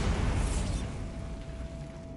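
A Bombarda blasting spell explodes in a Harry Potter video game, a loud rumbling burst that decays slowly into a lingering roar with a steady faint tone underneath, no voices.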